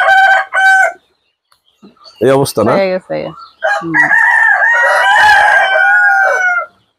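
A rooster crows loudly and close on a chicken farm, several bursts of crowing broken by short pauses, with a person talking briefly between them.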